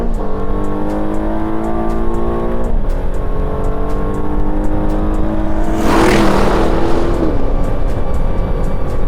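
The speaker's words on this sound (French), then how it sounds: "Et surtout, en accélération franche, écoutez ce son" A 2025 Aston Martin Vantage engine revs hard under heavy acceleration, its pitch climbing through the gears, with a loud roaring burst partway through.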